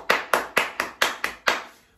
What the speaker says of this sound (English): we're gonna add some claps.